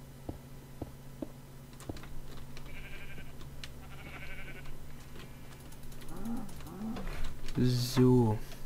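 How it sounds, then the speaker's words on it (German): A few sheep bleat in Minecraft toward the end, wavering and fairly close, after scattered clicks and mechanical ticking. "Ich hör schon Schafe, das ist ein gutes Zeichen."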